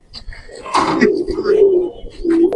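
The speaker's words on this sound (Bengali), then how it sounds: "এটা হলো কিং কবুতর ভাই" King pigeons give low, throaty coos in a few close, repeated phrases at a pigeon farm, with some faint chirps in the background.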